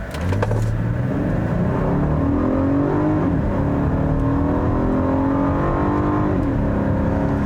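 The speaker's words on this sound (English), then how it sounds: "when you put the vehicle into its sport setting here and put your foot down" A 2020 Volkswagen Atlas Cross Sport with a 3.6 liter V6 accelerates hard in its sport setting, engine note climbing steadily and loud, close and continuous with no talk.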